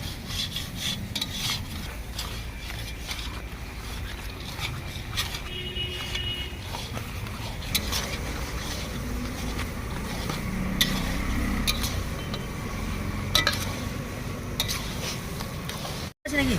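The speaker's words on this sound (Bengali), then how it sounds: "বন্ধুরা বাবাই ভাই নাড়ছে খুব কষ্ট হচ্ছে নাড়ছে দশ কিলো মাংস তো" Ten kilos of marinated meat being stirred in a large pot, a continuous scraping, rasping churn of spoon against metal with light sizzling, steady and close, while people talk in the background.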